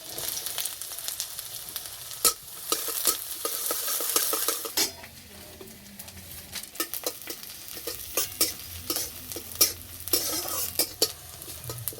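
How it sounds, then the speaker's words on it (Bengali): Chopped garlic, green chili and onion fry in mustard oil in a wok. A steady sizzle runs throughout, broken by repeated scraping stirs and sharp utensil clinks. "পেঁয়াজ রসুন ভাজা হয়ে গেছে"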